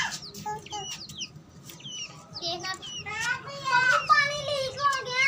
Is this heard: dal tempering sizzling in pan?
no